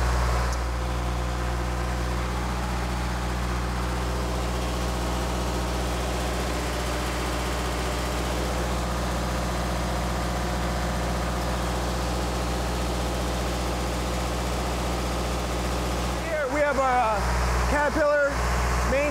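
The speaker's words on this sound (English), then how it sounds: "Caterpillar main diesel engines are rated at 900 horsepower each." Two 900-horsepower Caterpillar main diesel engines in a patrol cutter's engine room, a loud constant low drone with steady harmonic hum, and a few brief clanks near the end.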